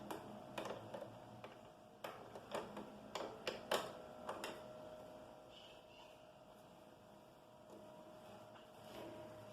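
A presser foot snapping onto a Janome sewing machine gives a quick run of sharp, close clicks and taps over a few seconds, then settles into quiet room tone.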